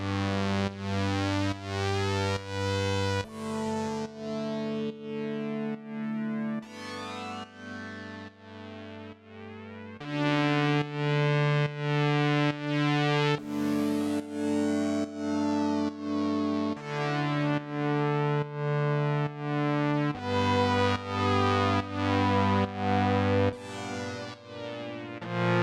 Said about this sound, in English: Now, this is a oscillator sync sound mixed with pulse width modulation.